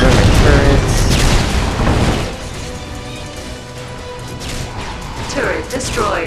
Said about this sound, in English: those guys are gonna destroy my turrets